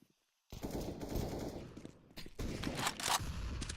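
AK rifle fire in a Counter-Strike esports match, dense bursts of rapid automatic gunfire after a brief silence, loud and continuous with short pauses between bursts.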